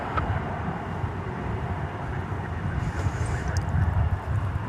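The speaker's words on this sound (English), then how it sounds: "It's an Airbus A321 flight 2448." An Airbus A321 airliner at DFW Airport gives off a distant, steady broadband roar that swells slightly toward the end, heard faintly under general outdoor background noise.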